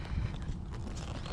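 A Standardbred horse being ponied, hooves clip-clopping in a muffled, steady walking rhythm close by against a low rumbling outdoor background.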